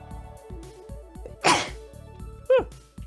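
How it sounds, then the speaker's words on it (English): A single sharp sneeze stands out over looping Stardew Valley Expanded game music, with a couple of brief chirpy game sounds after it. "Sneeze."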